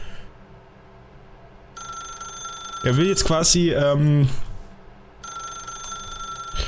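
A telephone rings in the video game The Stanley Parable, an electronic ringing tone that plays in stretches before and after someone speaks over it, his voice briefly dominating the middle.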